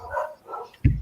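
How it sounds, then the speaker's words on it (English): Several dogs bark indoors, with a couple of soft, muffled barks followed by one louder, deeper bark close to the microphone. "Candy, what's up with the dogs today?"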